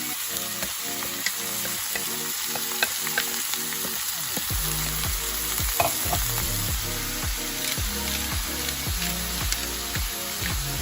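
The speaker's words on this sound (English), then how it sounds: "you're going to go ahead and add your steak to the skillet" Steak hisses and crackles in an oiled skillet, a steady close sizzle with bright spitting pops, growing denser partway through as the meat settles into the hot oil; no one talks.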